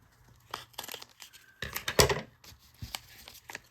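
Tape and cardboard being sliced and torn open on a mailed package of Pokémon cards, with several short rasping rips and crinkles clustered into a louder burst near the middle, close by and without talk.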